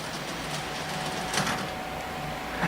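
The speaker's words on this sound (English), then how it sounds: "we have trains running on it right now" Model trains run on a home layout with a reverse dog bone loop, a steady close whirring and rumbling hum with light rail clatter, continuous and unbroken.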